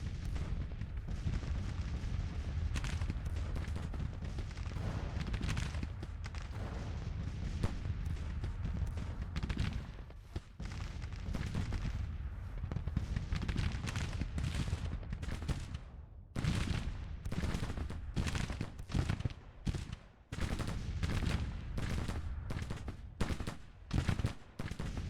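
Artillery and gunfire rumble through a Civil War battle in the Grand Tactician video game, with a continuous heavy barrage of booms and shots that breaks into separate sharp bursts toward the end.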